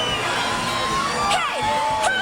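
A large parade crowd in New Orleans roars continuously, a steady mass of cheering and shouting voices with a few high whistles and squeals rising above the din.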